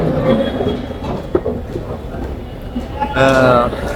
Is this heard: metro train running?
yes